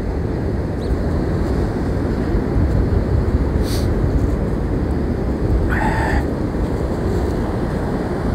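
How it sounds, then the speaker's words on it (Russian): Strong wind roars steadily across a microphone on a seaside promenade in Anapa, a dense, continuous rushing blast with no pauses, and a brief faint chirp cutting through once. "ветер сильный, большой"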